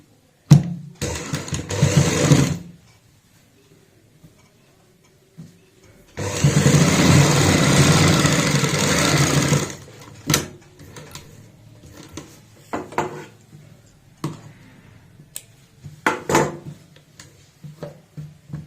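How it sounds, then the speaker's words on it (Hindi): A sewing machine stitches fabric in two rapid runs, a short one at first and then a longer steady burr of about four seconds, followed by scattered clicks and handling noises of the machine and cloth. "तो हम धागा चेंज कर लेते हैं और यहाँ पे भी सिलाई से अटैच करते हैं।"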